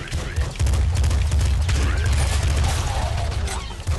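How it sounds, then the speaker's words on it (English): Dense rapid bursts of gunfire and crashing impacts in the video game Nuclear Throne as an enemy sprays many bullets, loud, continuous and chaotic over a booming low rumble. "Because he shoots a lot of bullets just like that."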